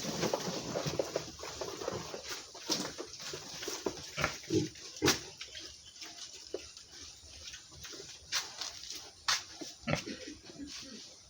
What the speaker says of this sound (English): This is how the pigs are doing.